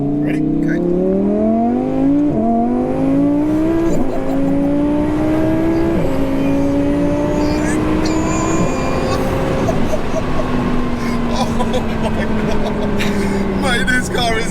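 A 1400hp twin turbo Audi R8 Spyder accelerates hard through several gears, its loud engine note rising steadily and dropping sharply at each shift, heard from inside the car with voices over the roar.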